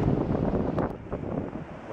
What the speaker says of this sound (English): Big waves on the outside.